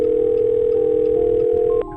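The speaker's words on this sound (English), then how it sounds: "I picked up the phone and called someone." A steady telephone dial tone hums alone for about two seconds after a phone is picked up, dropping slightly in level near the end with no talking.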